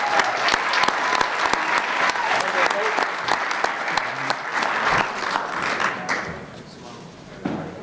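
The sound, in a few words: round of applause at board meeting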